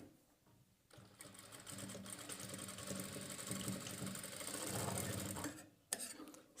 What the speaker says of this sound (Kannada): ಈ ಕಚ್ಚಾ ಮತ್ತು ಈ ಡೋರಿ ಈ ಎರಡಕ್ಕೂ ಕರೆಕ್ಟಾಗಿ ಸ್ಟಿಚ್ ಮಾಡ್ಕೊಳ್ಬೇಕು.